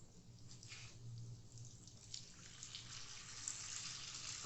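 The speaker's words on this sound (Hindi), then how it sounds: "और इसमें जाएगा बिल्कुल थोड़ा सा पानी" A little water, about two tablespoons, is poured into a cooking pan while preparing masala macaroni and cheese, giving a faint, soft trickle and splash heard alone with no talk.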